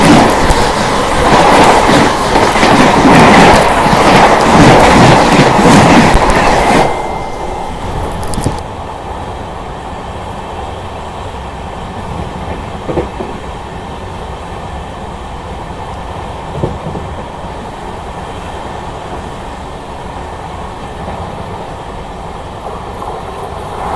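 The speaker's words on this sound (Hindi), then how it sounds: "सामने से आ रही है 1236 अजमेर राजेंद्र नगर जियारत एक्सप्रेस।" The Ajmer–Rajendra Nagar Ziyarat Express rushes past close by in India, loud rumbling wheels and clickety-clack for several seconds, then fading to a steady lower rolling hum as it recedes, with no voices.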